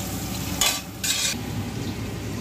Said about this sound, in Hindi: एक तेल डाल रहे हैं, प्याज को इसमें तल लेते हैं।